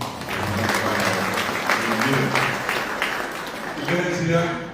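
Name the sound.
applause for journalist Ricardo de Vente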